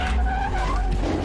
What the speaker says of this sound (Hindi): गाड़ी स्टार्ट हो गई और इसने गाड़ी का शीशा फोड़ दिया